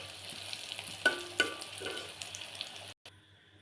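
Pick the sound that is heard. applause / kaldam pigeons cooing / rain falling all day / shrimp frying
shrimp frying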